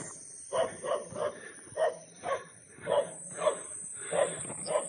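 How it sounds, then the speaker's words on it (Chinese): A dog barks near a lone house deep in remote mountains, roughly ten moderately distant barks in an uneven rhythm over a faint, steady outdoor hiss. "听到一个狗叫，不会有很多吧。"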